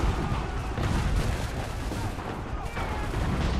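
Enemy soldiers in Assassin's Creed 3 unleash dense, continuous volleys of musket and cannon-like gunfire, loud overlapping shots and booms filling the whole stretch.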